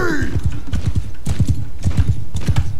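Horses gallop in a large Mount & Blade II: Bannerlord custom battle, a loud steady clip-clop of many hooves running throughout with a brief whinny near the start.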